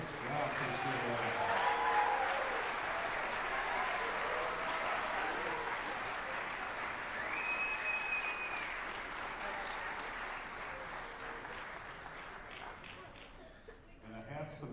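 An audience at a beginner and second-year honor band festival applauds a first year band with steady, full clapping that slowly tapers, while a voice speaks over it.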